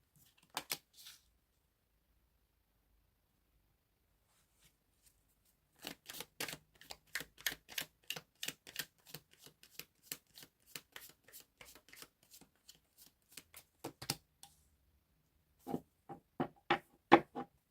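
A tarot deck being shuffled by hand: a brief riffle, a long quiet pause, then a lengthy run of crisp, rapid card flicks and taps, close and fairly quiet, ending in a few louder bursts.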